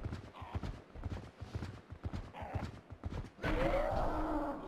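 Galloping horse hooves in Zelda: Twilight Princess HD while riding and shooting arrows, a rapid clip-clop rhythm up close, followed by a louder burst of game sound effects near the end.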